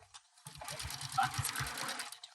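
Home sewing machine stitching a bucket hat, a quick run of rhythmic mechanical needle pulses lasting about two seconds, close and clear, with a voice briefly audible alongside.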